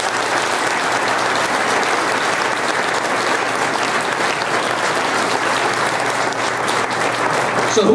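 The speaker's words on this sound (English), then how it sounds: "So right now I will let you have a round of applause for these three wonderful people." Sustained applause from the audience at a mayoral candidates' forum, steady dense clapping filling the room at an even level for the whole stretch with no speech.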